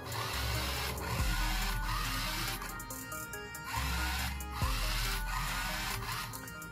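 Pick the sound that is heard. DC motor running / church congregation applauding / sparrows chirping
DC motor running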